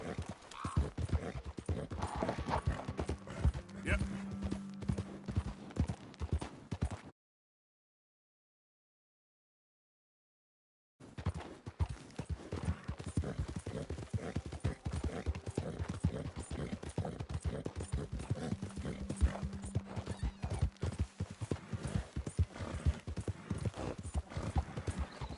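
Horse hooves clip-clopping steadily in the Red Dead Redemption video game, a continuous rhythmic trot with occasional whinnies, broken by a few seconds of silence midway before the hoofbeats resume.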